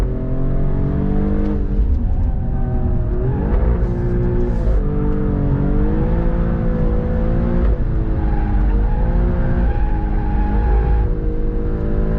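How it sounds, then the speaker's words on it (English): A 2024 Alfa Romeo Stelvio Quadrifoglio engine revs hard and steadily with a droning, rising and falling pitch, close by, as the front tires scrabble for grip. "Feels like it's spinning the front tires a little bit."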